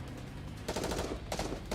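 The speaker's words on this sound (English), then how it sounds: "Gunshots tear through the air" Gunfire in the video game Goddess of Victory: Nikke during a bike chase, two loud bursts of rapid shots over a constant dense background of game noise.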